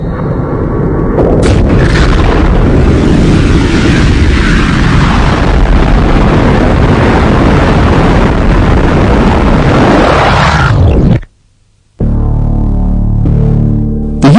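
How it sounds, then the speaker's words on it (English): A huge, loud Big Bang explosion effect roars as a sustained rumbling blast for about eleven seconds, cuts briefly to near silence, then swells into a tonal, musical rumble. "The universe came into being with the explosion of this point."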